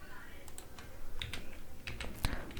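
Computer keyboard keys clack as PHP code is typed: a rapid, irregular run of close, crisp keystrokes over a low background hum.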